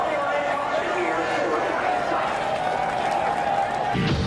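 A large NASCAR grandstand crowd claps and cheers in a steady, dense roar that continues without a break, with a voice faintly underneath.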